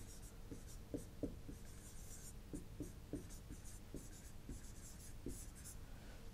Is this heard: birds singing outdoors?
no